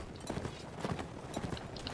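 Horse hooves clip-clopping in the medieval combat game Mount & Blade, a steady galloping patter of repeated thuds at moderate loudness, continuous throughout with no talk.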